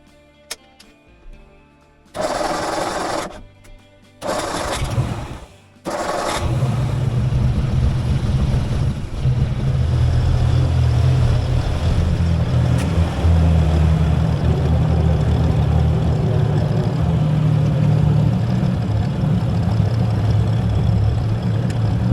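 An old truck with a rebuilt battery cranks in a few short bursts, then its engine catches and settles into a loud, steady rumbling idle that continues to the end.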